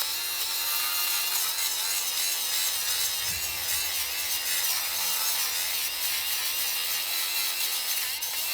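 An angle grinder with a flap disc scours rust off a steel shipping container, giving a steady, loud, high abrasive whine that runs without a break through the whole clip.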